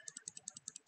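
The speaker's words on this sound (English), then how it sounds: "Enjoy listening to my mouse clicks." Computer mouse clicks, about ten crisp, evenly spaced taps close to the mic, quiet against a faint background with no speech.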